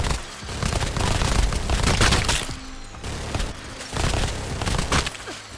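Bursts of rapid gunfire from Fallout 4 with impact hit marker sounds added by a mod, arriving in loud, clustered volleys separated by brief lulls.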